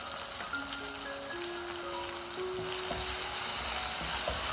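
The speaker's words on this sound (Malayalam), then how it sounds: "ഇതിലേക്ക് ചേർത്തിട്ടുള്ള മസാലപ്പൊടിൻ്റെ ആ പച്ചമണം മാറുന്ന വരെ നന്നായിട്ട് വഴറ്റി കൊടുക്കുക" Fish gravy masala with turmeric powder sautéing in a pan, a steady soft sizzle that swells slightly louder toward the end, with faint clinks and no voices.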